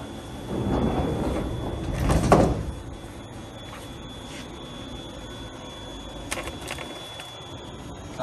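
The doors of a GMT 2601 machine enclosure slide shut with a rolling, rumbling sweep and a firm closing thud, followed by a steady mechanical hum and a few small clicks.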